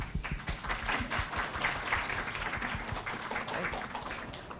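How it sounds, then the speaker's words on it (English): An audience at an international pharmacy conference applauds, dense and continuous clapping filling nearly five seconds at a steady, fairly loud level. "Round of applause."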